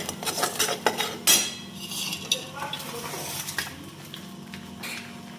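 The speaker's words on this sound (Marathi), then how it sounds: "तर व्यवस्थित तेलात परतून घ्यायचा" Spice masala stirred in hot oil in a pan with a metal utensil, giving steady scraping and clinking strokes with a few sharper clanks against the pan over a low, continuous background.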